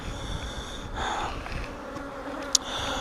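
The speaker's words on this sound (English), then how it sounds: "Wow, a lot of bees in this hive." Honey bees buzz steadily inside a crowded hive, a dense continuous drone close to the microphone, with one brief sharp click near the end.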